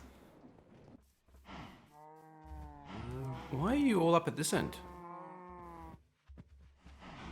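Cattle in a factory-building video game moo in long, drawn-out calls, several overlapping and rising in pitch, with someone talking briefly before and after.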